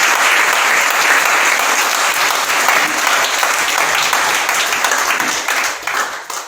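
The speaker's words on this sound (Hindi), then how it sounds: "जोरदार ताली बजाएंगे प्रभु यीशु मसीह के लिए" Loud applause fills a church congregation during a Hindi-language worship service, sustained dense clapping from many people that holds steady, then tapers off toward the end.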